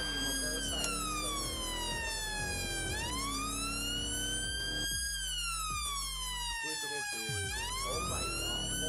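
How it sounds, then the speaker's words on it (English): Wailing police sirens in a police roleplay video game rise and fall continuously, loud and steady, layered with engine rumble and a constant electronic-sounding drone throughout. "apparently we already have people there with sirens"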